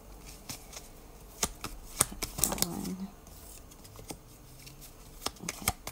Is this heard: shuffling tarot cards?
yes